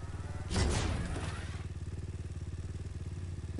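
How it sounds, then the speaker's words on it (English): A motorcycle idling nearby with a steady, pulsing low throb, after a brief louder burst near the start. "I'm about to leave in my motorcycle."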